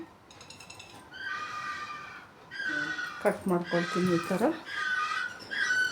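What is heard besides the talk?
egrets calling from nearby paddy field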